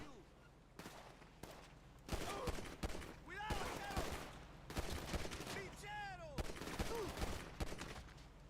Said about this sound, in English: That's who's shooting at me.